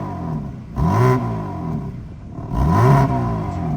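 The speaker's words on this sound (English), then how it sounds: "this is how the rev sounds on eco mode" BMW G80 M3 Competition with catted downpipes and valved exhaust, set to eco mode, gives two short muffled revs that rise and fall, each swelling and fading over a steady idle rumble.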